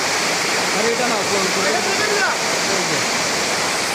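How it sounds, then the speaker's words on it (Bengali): Dhuppani waterfall at Bilaichhari, Rangamati, roars as a steady, dense rush of falling water close by, with someone speaking intermittently over the continuous noise. "ঝর্ণাটা আমি দেখাচ্ছি ঝর্ণাটা হচ্ছে এই যে"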